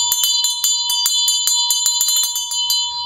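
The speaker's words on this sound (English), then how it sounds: "move the tongue of the bell in the 8 directions" A Tibetan Buddhist ritual bell rings clearly and close, its tongue swung around so it strikes in a rapid, uneven series of bright metallic chimes that ring on over each other, with no one speaking.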